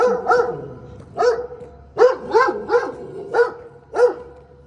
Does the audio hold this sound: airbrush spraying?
no